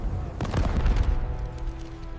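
Gunfire from Spanish guns at the Calderon Bridge battle, rendered as a sound effect: a quick cluster of loud shots and booms early on that tails off into a rumbling fade.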